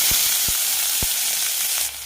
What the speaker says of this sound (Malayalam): കടുക് പൊട്ടിക്കഴിയുമ്പോൾ സവാള അരിഞ്ഞതും കറിവേപ്പില ചെറുതായി മുറിച്ചതും ഇടാം.